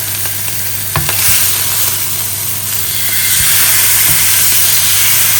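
A steak searing in a hot pan gives a loud, continuous, close hissing sizzle with a few knocks near the start and no talking.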